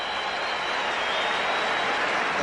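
Crowd at Candlestick Park during a 1992 NFL football game between the Buffalo Bills and San Francisco 49ers, a steady wash of applause and crowd noise, distant and even, with no clear voices.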